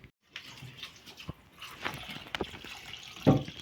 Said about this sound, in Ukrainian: Ну і отак заливаємо антифріз.